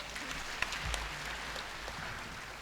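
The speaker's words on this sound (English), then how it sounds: "Please give yourselves a big round of applause." An audience at a Ministry of Health achievements ceremony claps together, a continuous, moderately quiet patter of many hands lasting a couple of seconds with no voices above it.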